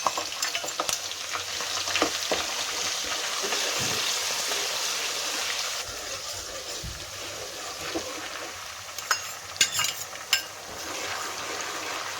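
Garlic, ginger and onion fry in a pan for pav bhaji, a long, loud, close sizzle broken by stirring scrapes and a few sharp spatula clacks toward the end.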